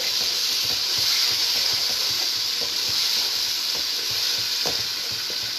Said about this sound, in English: I'm just going to keep stirring my curry, just because I don't want to stick.